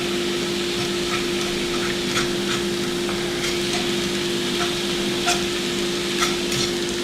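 Zucchini cooking in a pan until browned, a dense, even sizzle and hiss running continuously and fairly loud, with a steady hum underneath and occasional faint clicks.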